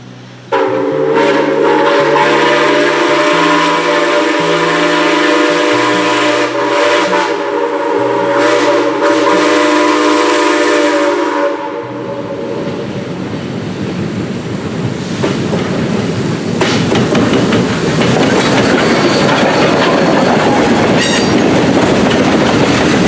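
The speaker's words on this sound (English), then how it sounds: "enjoy some more footage of these steam locomotives" Southern 630 steam locomotive rolling past at close range, with a sustained multi-tone horn blast over steady clickety-clack of wheels for about twelve seconds, then a loud rushing roar of passing cars.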